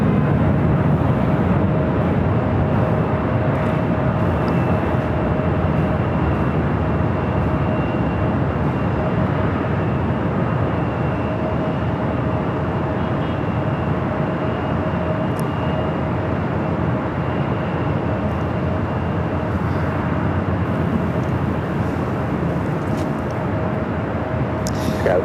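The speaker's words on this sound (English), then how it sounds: "That was United Airlines flight 2679 coming up from Newark at 737 at MAX 9." A United Airlines Boeing 737 MAX 9 arriving at Los Angeles airport from Newark, a continuous broad jet rumble with a faint steady whine, sustained and fairly loud for the whole stretch.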